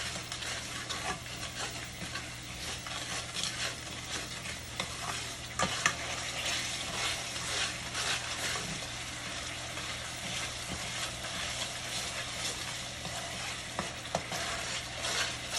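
Sofrito and tomato paste frying in a generous amount of oil for arroz con gandules, a steady close sizzle with ongoing scraping stirs and occasional clinks, no voices.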